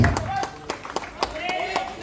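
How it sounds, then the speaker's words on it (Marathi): Steady, rhythmic clapping for a fielder at a local cricket league match between Sindhudurg and Shivneri, about four claps a second in even unison, over a background of voices and crowd chatter. "तुम्ही तेजसाठी टाळ्या वाजवून एकदा प्लीज."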